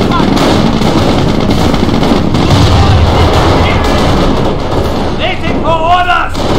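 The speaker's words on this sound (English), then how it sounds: "Under small arms fire!" Dense small arms gunfire and booming battle noise in the Company of Heroes war game, continuous and loud throughout, with brief unit voice calls near the end.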